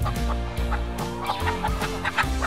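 Free-range chickens cluck continuously close by near their nests, a busy overlapping chorus of low, throaty clucks and brief higher calls with no voices over it.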